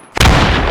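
A sudden loud chemical blast in the strategy game MOWAS2 booms close and then rolls into a long, broad roar.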